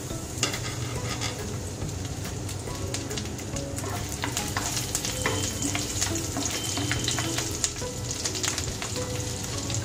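Garlic frying in reused oil in a pan gives a steady, dense sizzle with crackling bursts and occasional scraping as it is stirred, close and continuous throughout.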